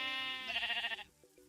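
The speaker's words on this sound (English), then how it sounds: "we're going to check out the brand new sheep variants" A sheep in the Minecraft video game gives a single wavering, buzzy bleat, fairly close and clear, ending with a few faint thumps afterward.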